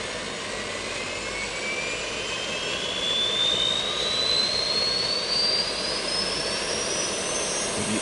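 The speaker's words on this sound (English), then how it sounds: "Yeah, you can hear the APU starting up" Airbus auxiliary power unit spooling up in a Prepar3D/FSX flight simulator, a steady broadband turbine rush with a slowly rising whine that holds at a constant level throughout, with no talking.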